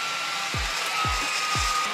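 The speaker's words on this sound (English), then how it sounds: "flip it over, blow dry, and pull down" A handheld hair dryer blows steadily on mannequin hair, a constant close airy roar with a few low thumps as the hair is handled.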